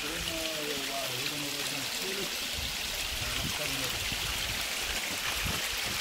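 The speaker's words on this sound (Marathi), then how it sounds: "तुम्ही बघताय पाण्याचे झरे वाहत आहेत" Rain-fed water streams flow down a rocky trail cut into stone, giving a steady hissing rush with people talking over it.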